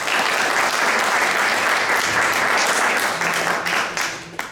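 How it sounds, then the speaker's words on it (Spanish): Loud, sustained applause from an audience at an international academic conference on urban transitions, a dense wash of clapping that slowly thins toward the end. "Un fuerte aplauso para él,"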